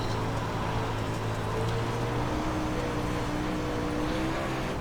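Dirt super late model race car in the game iRacing: a continuous, droning engine roar at steady load with slowly shifting pitch, dense and loud throughout with no talk.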